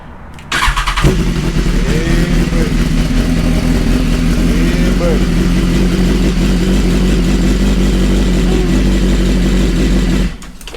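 A 2015-or-later BMW S1000RR motorcycle that has sat unused for a long time cranks and catches, then settles into a loud, close, steady idle with slight rev wavers, before cutting off near the end.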